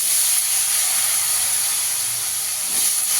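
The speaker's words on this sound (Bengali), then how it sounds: "কাঁকরোলটাকে একটু লাল করে ভেজে নেব।" Teasel gourd (kakrol) pieces with turmeric and salt fry in hot oil, giving a steady, loud sizzle and hiss that holds even throughout, with no voices.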